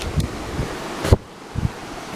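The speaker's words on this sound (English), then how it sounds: "oh look, there's a waterfall" A forest waterfall pours in a steady broadband rush, with a few soft thuds and knocks breaking the even wash of water.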